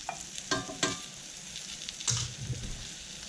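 Blackened rosemary salmon sears flesh side down in a cast iron pan over gas, a steady close sizzle with a few brief clatters and scrapes of stirring or handling.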